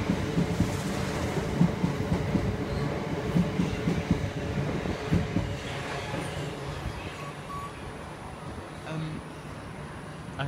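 Class 387 electric train crawling slowly through Haywards Heath station, a steady rumbling roll with wheel clatter heard close for the whole stretch, fading slightly toward the end.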